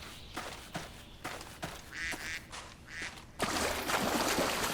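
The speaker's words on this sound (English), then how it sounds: "Oh, there's some mallards." Mallard ducks quack in a series of short, raspy calls, close by, with outdoor noise and a burst of wind or rustle near the end.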